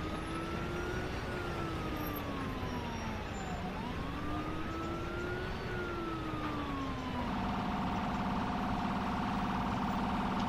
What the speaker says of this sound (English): Okay, so the ambulance is just around the corner.